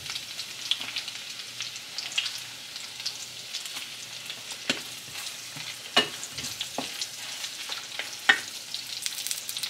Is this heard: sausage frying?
yes